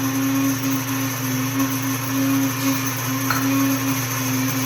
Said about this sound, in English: I'm going to mill a 1 cup of hard white